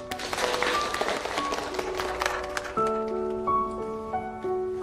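Classroom applause for a new student starts as a brief burst of clapping and fades under sustained music tones that take over.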